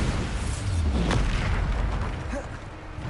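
Bombarda spell blast in the video game Hogwarts Legacy, a deep booming explosion with rumbling low-end and a brief crackling burst, loud and close.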